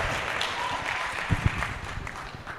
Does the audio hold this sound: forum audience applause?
yes